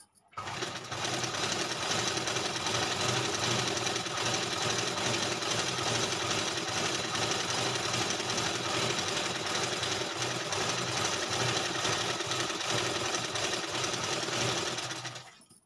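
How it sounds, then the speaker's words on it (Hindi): Sewing machine running continuously, stitching a seam right along the edge of fabric; steady, loud mechanical whirring with a fast rapid-fire stitch rhythm from start to finish, close by, with no talking. "ऐसे हमें इस तरफ भी लगानी है, बिल्कुल किनारे पे लगानी है सिलाई।"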